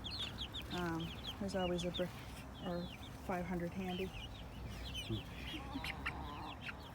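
Chickens and a rooster in with the laying hens on a homestead cluck in short repeated bursts at moderate distance, with a person talking over them.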